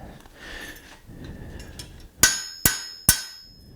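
A hammer drives a steel chisel into a hot forged leaf to cut veining, giving three sharp, ringing metallic blows in steady succession after a quiet stretch of shop background.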